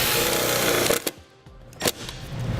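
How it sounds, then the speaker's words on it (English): A self-tapping screw driven into vehicle sheet metal on a 2016 Lincoln MKX with a power driver, giving loud buzzing bursts with short pauses, close up. "Now we'll attach this to the vehicle sheet metal with the provided self-tapping screw."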